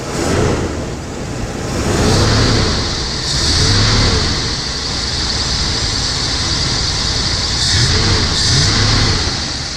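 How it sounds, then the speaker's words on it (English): Engine of a custom 1979 Ford Pathfinder Quadravan 4x4 runs at idle and revs up repeatedly, a loud, steady rumble that swells in several surges close by, with no talking. "Motor sounds good too."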